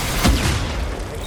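A single heavy gunshot boom in Death Stranding, close and loud, followed by a short fading rumble.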